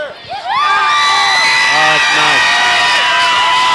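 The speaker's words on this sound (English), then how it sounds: "this crowd's going crazy" High school football crowd in the stands cheering and whooping loudly after a short quiet start, a sustained roar with shouts rising over it and a brief spoken remark mixed in.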